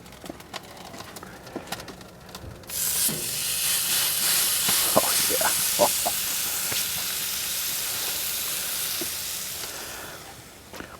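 A steak sizzles on a Masterbuilt charcoal griddle top at just under 500 °F, starting as a sudden loud hiss when the meat goes down and holding steady with scattered crackles and pops, fading near the end.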